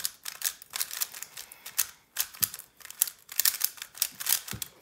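A GTS 3M Rubik's cube is turned rapidly during a solve, producing quick bursts of light plastic clicking and rattling in uneven clusters, close and crisp with no talking.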